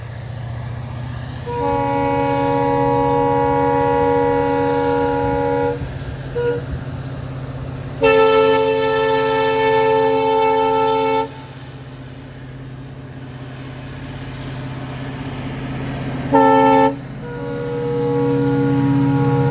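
The Hampi Express sounds several long, loud horn blasts, with a short gap between them and a brief final toot, over the constant rumble of the running train heard from on board.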